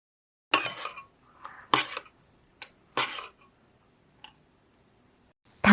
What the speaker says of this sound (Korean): 홀그레인 머스타드와 꿀을 넣어 소스를 잘 섞어주세요.